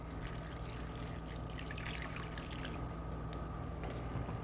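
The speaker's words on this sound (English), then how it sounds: "So we're going to rinse all of that extra salt and sugar off." Tap water runs steadily over wasabi stems as salt and sugar are rinsed off, a continuous trickling and splashing with a constant low hum underneath and no break.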